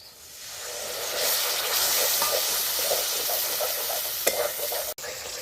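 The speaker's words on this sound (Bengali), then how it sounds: "মশলাটা ভালোভাবে কষিয়ে নিয়েছি" Masala for prawn rezala sautéing in a pan with a steady, loud sizzle and hiss, broken by rhythmic stirring scrapes and a sharp knock near the end, with no talking.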